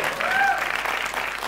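An audience applauds at a film trailer launch event, steady dense clapping filling the room, fairly loud and continuous.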